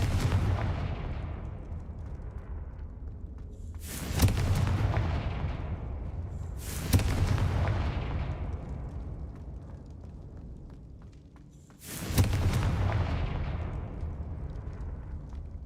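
Three heavy booming blasts from the Confringo spell in Hogwarts Legacy, each a sharp burst that rolls off into a long rumbling decay, loud and spaced a few seconds apart.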